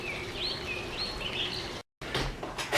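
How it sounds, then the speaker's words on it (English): Faint bird chirps and short twittering calls over a steady outdoor hiss, with a brief dropout partway through. "Listen to those birds chirping."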